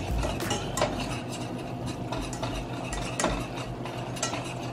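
A white sauce of flour and fat is stirred steadily in a pan, a utensil scraping and clinking against the metal in a continuous rhythm with faint sizzling, close and fairly loud, with no voices.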